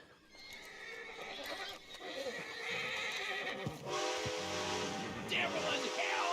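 Horses near a stagecoach in the Red Dead Online video game whinny loudly several times, with hoof clops and game ambience around them, alongside a faint voice.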